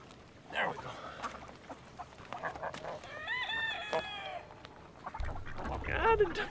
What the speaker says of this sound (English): the ducks are having fun